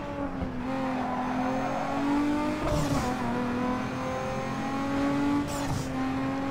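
Sustained engine drone of a turbocharged street car in Need for Speed Underground 2, a steady loud tone that rises slightly and dips twice with brief shifts, with no talk over it.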